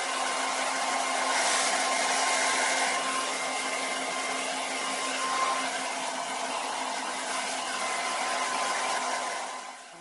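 A blow dryer runs steadily and close for the whole stretch, rough drying hair with a constant airy roar and a faint whine that eases off at the very end.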